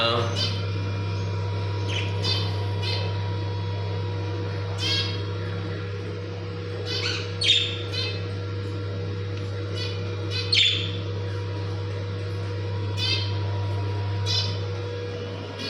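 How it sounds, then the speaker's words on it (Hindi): A pet myna bird gives scattered short chirps and squawks, some close and sharp and others softer, over a steady low background hum. "हाँ क्या कह रही है मैना?"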